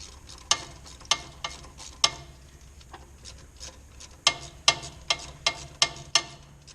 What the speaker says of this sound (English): And now I can take my 10 millimeter, loosen this one.